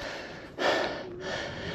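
Heavy breathing from a hiker out of breath on an uphill stretch near mountain lakes at Les Deux Alpes, two close, loud breaths, a sharp inhale followed by a long exhale.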